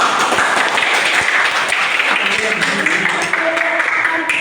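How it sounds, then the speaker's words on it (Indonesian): A classroom of eleventh-grade students at a high school applauds together, a dense steady patter of hand claps that fills the room for a few seconds, with some voices mixed in. "Oke, kita tepuk tangan dulu."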